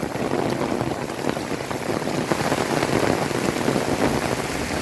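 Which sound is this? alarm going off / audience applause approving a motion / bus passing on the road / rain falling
rain falling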